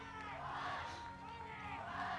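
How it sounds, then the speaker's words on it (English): Spectators cheer at an archery gold medal team match, a steady, distant crowd roar with scattered shouts and whoops, fairly faint and continuous throughout. "cheering on their team."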